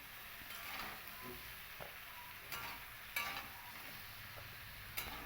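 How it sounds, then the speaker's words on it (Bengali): Young green jackfruit fries in a wok, with a steady sizzle and occasional scraping stirs of a spatula against the metal. It sounds close and moderately quiet, with no talking. "এইভাবে নাড়তে নাড়তেই এঁচোড়টাকে কিন্তু আমি হালকা একটু লালচে কালার করে ভেজে নেব"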